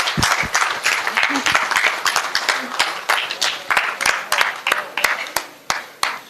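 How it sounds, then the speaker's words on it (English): Students at a B.Tech orientation event applaud a speaker in a hall, loud close claps in a dense, quick rhythm, with voices cheering and chatter mixed in. "Come on guys, let's applaud him"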